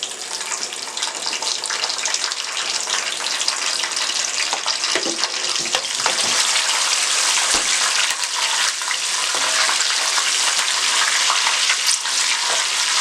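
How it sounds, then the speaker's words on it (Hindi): Cumin seeds and green chillies dropped into hot oil, a loud dense crackling sizzle that holds steady throughout, close up, with a few faint clinks and no talking. "अब इसी गर्म ऑयल में हमने जीरा डाल देना है। इसमें हरी मिर्च डाल देंगे।"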